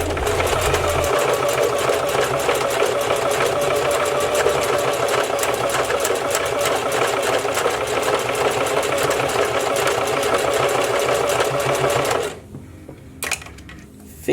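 A sewing machine runs steadily for about twelve seconds, stitching tracks while sewing in bundles of hair, then stops abruptly, leaving near silence with a couple of small clicks.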